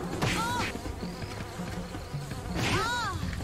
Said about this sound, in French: dégagez les moustiques!